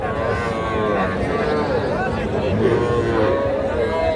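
Cattle at a busy livestock market in Parbatipur, Dinajpur, with lowing mixed into a steady, dense crowd murmur and people talking throughout.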